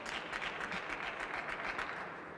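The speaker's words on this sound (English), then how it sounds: "when the crowd erupts like that" Applause bursting from the crowd at a table tennis match, a steady, dense patter of many hands clapping at moderate distance for a couple of seconds.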